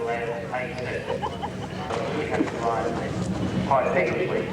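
Hoofbeats from a horse on a horse-trials jumping course in 1983, rhythmic clip-clop strides heard faintly beneath continuous commentary.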